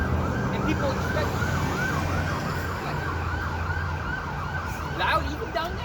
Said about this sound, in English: Wherever we do camp, there's always an ambulance.